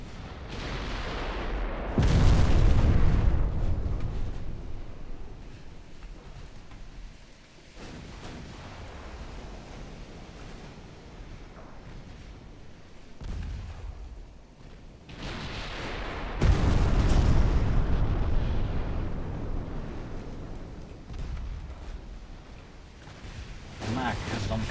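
Naval main gun fire in the video game Ultimate Admiral Dreadnoughts: two heavy booming salvos around the second and sixteenth seconds, each rolling into a long rumbling decay over a steady sea-like wash, with talk over the battle.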